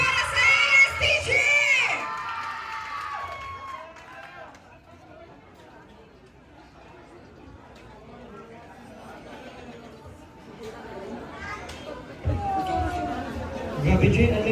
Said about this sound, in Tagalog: Isang malakas sa palakpak para sa ASTG!